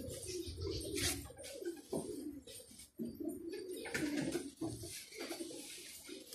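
Pigeons cooing close by in a loft, soft repeated low coos overlapping with a few faint chirps, steady and continuous with no talking.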